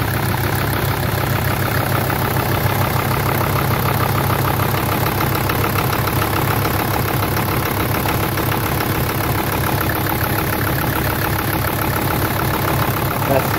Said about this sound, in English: you'll hear the engine go a little better.